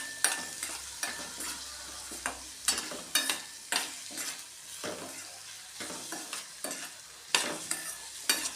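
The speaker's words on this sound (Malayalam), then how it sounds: "ഇന്ന് നന്നായിട്ട് വഴറ്റിയെടുക്കാം." Onion sautéing in a pan with salt and turmeric, with repeated stirring scrapes and clinks in an irregular rhythm over a steady low sizzle, close and moderately loud, no talking.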